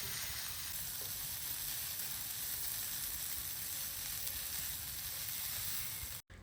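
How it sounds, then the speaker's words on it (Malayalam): Chicken filling for Kannur kannappam sizzles steadily in a pan while being stirred until its water cooks off, a close, even frying crackle that cuts out abruptly just before the end. "ആ വെള്ളം ഒന്ന് വറ്റുന്നത് വരെ നല്ലതുപോലെ ഒന്ന് മിക്സ് ചെയ്തെടുക്കുന്നുണ്ട് കേട്ടോ."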